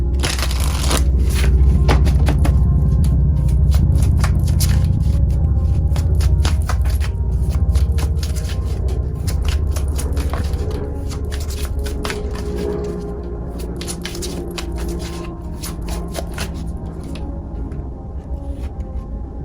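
Tarot cards shuffled and drawn by hand, heard close and loud as a continuous dense rustling and scraping with frequent crisp flicks, easing slightly in level partway through.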